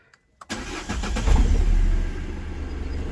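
A Peugeot 207 VTi petrol engine, already warm after an accessory belt repair, cranks briefly and catches, then settles into a steady, fairly loud idle close by with no talking.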